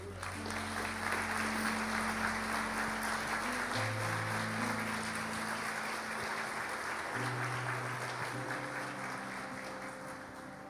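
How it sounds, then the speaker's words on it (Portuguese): Sustained applause from a church congregation fills the whole stretch, steady and loud, with sustained keyboard chords playing underneath. "Você vai aplaudir o Senhor,"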